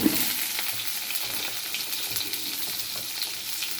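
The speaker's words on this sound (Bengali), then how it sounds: "সজনে ডাঁটা আর আলুটা একটু ভালো করে ভেজে নেব।" Drumstick vegetable (sojne data) pieces and potatoes fry in hot oil in a pan, giving a steady, close crackling sizzle with soft stirring scrapes throughout.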